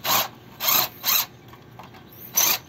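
Electric drill on an e-bike job whirs in four short bursts, each roughly a quarter-second long with brief pauses between, close and fairly loud, with faint mechanical clicks in the gaps.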